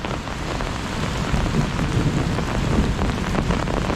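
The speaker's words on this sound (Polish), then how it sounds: "Dziś pada od jakiejś godziny." Steady rain pours down over Krynica-Zdrój in a dense, continuous hiss, with heavier patters on a surface close by and no voices.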